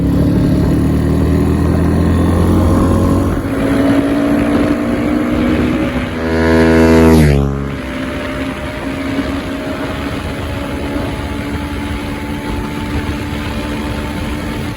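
Honda Grom motorcycle engine running hard on a top speed run, a loud continuous drone with rising pitch, wind rushing over the mic and a brief surge midway.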